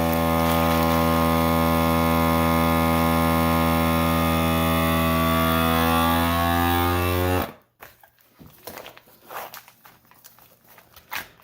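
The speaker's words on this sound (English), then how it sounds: "And by vacuum sealing it" A vacuum sealer runs with a loud, steady motor hum for about seven seconds while sealing a bag of curing pork loin, then cuts off abruptly, leaving quiet handling and crinkling sounds.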